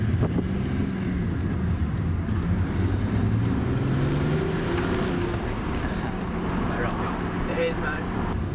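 A matte satin red BMW 330d E90 diesel pulls out and drives off with a low, steady engine rumble, mixed with road roar and wind buffeting the microphone throughout.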